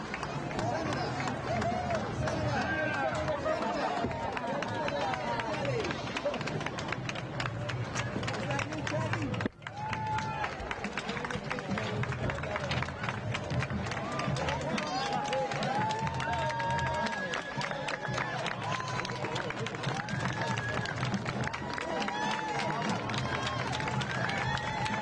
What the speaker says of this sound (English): You can hear the applause for him.